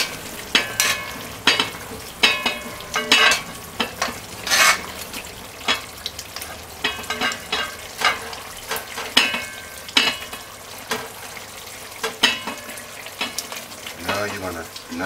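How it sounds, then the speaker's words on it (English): Brown stewed liver bubbling and sizzling in a pot, close and steady, with frequent scraping and stirring knocks and clinks of a utensil against the pan. "the liver has been stewing for 25 minutes"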